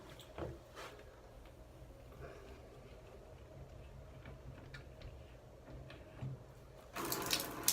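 Steady, quiet hiss of water running from a shower with a few faint clicks and knocks, swelling to a louder rush near the end.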